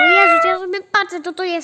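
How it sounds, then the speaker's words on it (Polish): A cat meows loudly and repeatedly in a room, a long drawn-out cry followed by several shorter meows, up close and almost continuous; a person speaks during the clip. "A, to kota."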